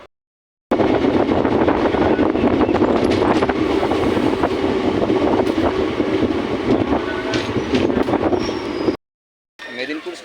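Train running through a railway station in Purulia district, India, with continuous loud rumble and clatter of wheels and wagons close by, a brief gap near the end, and faint voices in the background.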